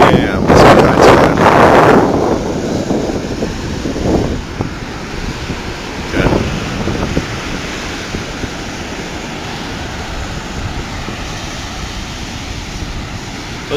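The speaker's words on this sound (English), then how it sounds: "I'm gonna get some waves." Ocean waves break on a beach on a windy holiday shore. A loud rush of surf and wind buffets the microphone at first, then settles into a steady roar with a few softer wave swells.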